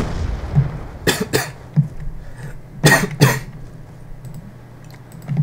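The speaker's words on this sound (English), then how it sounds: "You guys can tell every time I cough" A person coughs in two quick pairs, the first around the one-second mark and the second near three seconds, each pair made of sharp, loud bursts over a low background hum, with no talking.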